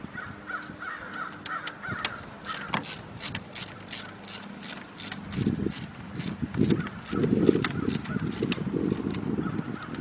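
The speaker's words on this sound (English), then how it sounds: "let's put our 5/8 or 16 millimeter socket up there. Let's tighten that spark plug up." A socket ratchet tightening a spark plug on a 2004 Ford Expedition: rapid, steady clicking of the pawl close by, with a low grunting or muffled voice later in the clip.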